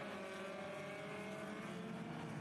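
Race cars at River City Speedway roar together under green flag, a dense, sustained engine drone with layered revving tones, heard from a distance and fairly faint throughout without breaks.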